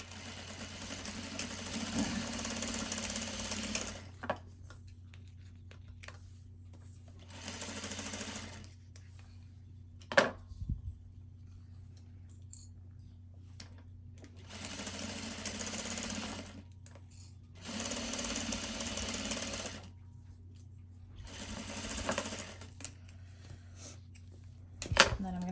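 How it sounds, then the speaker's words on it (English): Sewing machine top stitching a CGM or pump pouch, several separate bursts of fast, close stitching separated by quiet pauses, with a faint steady hum underneath. "then I'm going to top stitch."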